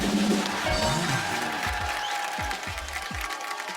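Studio audience applause on a Hindi comedy talk show, a dense burst of clapping that thins out into a few scattered claps over a few seconds, with a voice briefly over the start.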